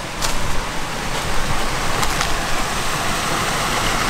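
A small waterfall by Little Torrycombe Tor in February, a steady, close, broadband rush of falling water that stays even throughout, alone without voices.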